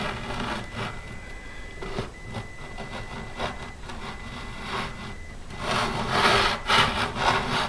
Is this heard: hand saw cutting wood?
yes